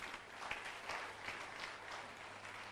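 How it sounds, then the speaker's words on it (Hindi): Audience applause at a motivational talk on success, a soft, even patter of many hands clapping at once, faint and distant, lasting a few seconds with no voices over it. "जोरदार ताली में।"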